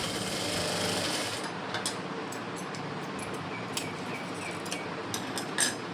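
Sewing machine stitching a blouse crosswise, a steady close whir at first that drops to quieter intermittent clicks and small ticks of the mechanism and fabric handling, with no talk.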